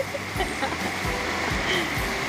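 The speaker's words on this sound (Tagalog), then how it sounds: "Ngayon lang umulan ng malakas at baha pa." Floodwater after heavy rain rushing down a street in a steady, loud broadband wash, with faint voices and low thumps mixed in.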